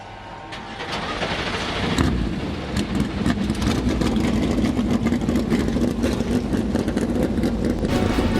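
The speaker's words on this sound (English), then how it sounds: "for the final time in 2025, the engines have been fired" NASCAR stock car engines fire up together at Homestead-Miami for the Cup Series championship, a dense, steady roar that swells after a couple of seconds and holds loud and continuous.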